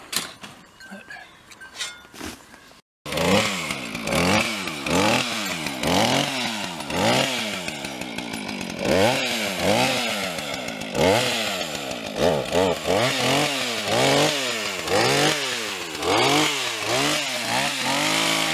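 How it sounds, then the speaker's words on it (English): A chainsaw cuts into a branch during roadwork in Coyote Canyon, starting after a short quiet lead-in and then revving loudly and rhythmically in repeated rising-and-falling bursts, close to the microphone. "I'd have to get my chainsaw on that."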